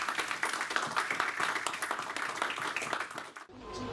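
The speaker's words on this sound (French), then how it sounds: "on va applaudir chaleureusement François Pécla" A conference audience applauding a lecturer: dense, steady clapping fills the room for several seconds, then cuts off abruptly into near silence.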